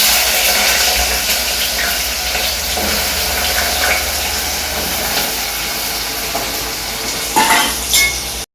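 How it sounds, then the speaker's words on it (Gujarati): Potatoes frying in tempered oil hiss loudly and continuously, with intermittent scraping of a spoon stirring the pan, ending with a sharp clatter. "આપણે મજાનું છે બટેટા મોરા નાખ્યા ને વઘાર દઈ દઈએ"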